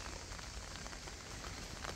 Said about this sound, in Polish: Nam tu pada, pogoda nie sprzyja akurat no, z takim pracą